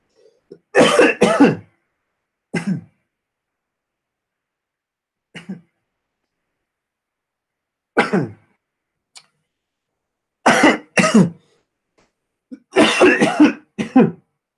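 A man coughs and clears his throat in separate harsh bursts, close and fairly loud, with short silences between them.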